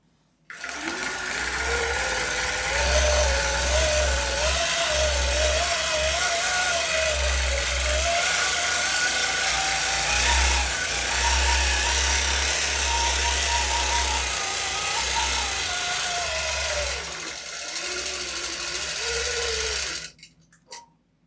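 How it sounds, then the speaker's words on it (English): A long arm quilting machine stitches a straight line across a kantha quilt with a loud, continuous motor whir and rapid needle hum whose pitch shifts slightly as it is guided, running about twenty seconds before stopping abruptly. "And now I'm going to sew that straight line all the way down, but I'm guiding this."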